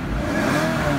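A 2012 Toyota RAV4 engine running just after start-up, a close, steady mid-pitched engine drone lasting about a second with no voices.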